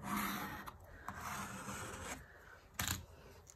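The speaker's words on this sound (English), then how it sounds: "So I'm burnishing it with my finger." A finger rubbing paper tape down onto watercolor paper makes a soft, continuous close-up scratching and rasping. A brief louder swipe comes near the end, and no one talks.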